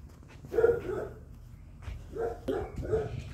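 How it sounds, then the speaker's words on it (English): A dog barks and yips outdoors at a distance, several short irregular bursts over quiet background noise. "Sorry for the noise, there's a dog."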